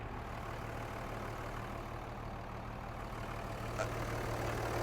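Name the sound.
Dodge Ram Cummins diesel engine idling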